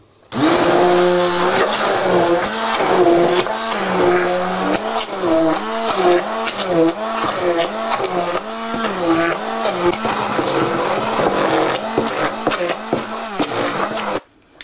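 An electric hand mixer beats cupcake batter of flour, sugar, butter, eggs, baking powder and a little milk, whirring loudly and steadily with a wavering motor pitch for about fourteen seconds before cutting off.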